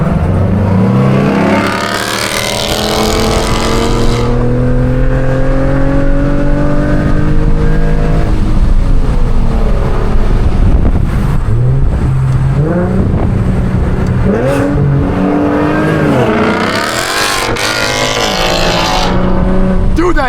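A straight-piped Infiniti Q50s roars loudly up through the revs, its raw exhaust climbing in pitch, dropping between shifts and surging again, with people talking over the engine noise.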